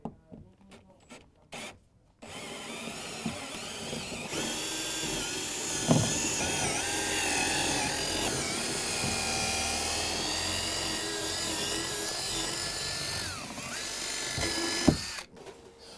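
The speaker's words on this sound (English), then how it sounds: "So I'm going to have to drill those out" A power drill whines steadily as it drills rivets out of a car door panel during a component speaker install, running close and continuous for about thirteen seconds after a few short starts and taps.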